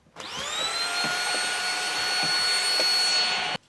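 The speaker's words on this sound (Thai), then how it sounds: "เวลาดูดฝุ่นตามช่องต่าง ๆ เนี่ย มันดูดสะดวกดี" A PerrySmith Extreme Series X10 handheld vacuum cleaner cleans a car interior, starting up into a loud, steady high-pitched whine that holds for about three seconds before cutting off abruptly.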